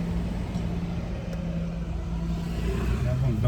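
Cars held in a traffic jam at a railway crossing while a train engine passes: steady idling engine rumble and road noise throughout, with a vehicle revving slightly near the end and voices talking faintly underneath.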